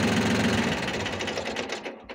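The Yanmar YM1820 small tractor's diesel engine chugs in a fast, even rhythm close by, then slows and dies away to silence as it is switched off.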